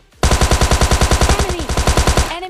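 A Tommy gun fires one sustained, rapid automatic burst in PUBG Mobile Lite, loud and close, with evenly spaced shots for about two seconds before it cuts off.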